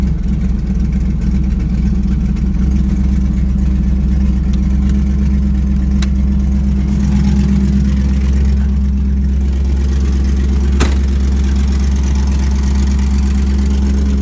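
A Chevrolet LS1 5.7 V8 with SLP upgrades idles steadily in cold weather. The low rumble stays loud and even throughout, with a slight swell partway through and a couple of faint clicks.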